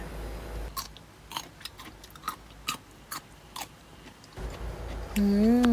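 Crunchy Thai three-flavour pickled vegetables, including daikon, are bitten and chewed up close, a series of sharp crisp crunches with quiet pauses between bites.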